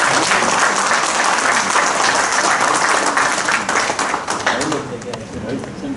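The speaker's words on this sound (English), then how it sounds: "The applause of the dais is louder than the audience." A conference crowd at a fire and security association event breaks into loud, dense applause, steady for several seconds before thinning slightly toward the end, with voices mixed in.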